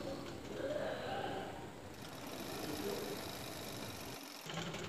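A sewing machine runs steadily, stitching a folded hem on a petticoat frock, a continuous faint motor hum and needle clatter with a brief dip near the end.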